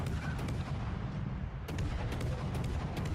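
Naval gunfire from battleships in World of Warships: Legends, with a dense rumbling barrage and repeated heavy booms at a moderate distance, over a continuous low roar.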